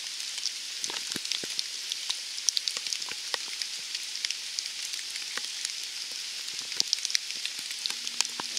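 Steady rain falls at night in the Atlantic Forest of the Serra dos Órgãos, Rio de Janeiro, a dense continuous hiss with scattered close drips and patters throughout, no voices.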